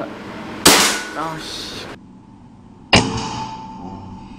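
Bocap Predator Tactical SAS 500 cc air rifle fires its sixth shot, a sharp loud crack with a short ringing tail, followed a couple of seconds later by a second crisp impact or click, nearby and without talk.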